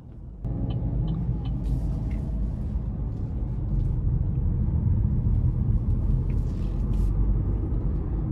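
Steady cabin drone of a 2025 Buick Envista Sport Touring's turbocharged engine under acceleration on a test drive, a continuous low rumble that swells slightly partway through, with faint road noise and no talking.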